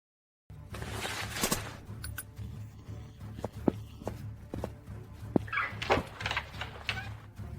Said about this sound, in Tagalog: narinig nyo ang tunog at bumukas ang pinto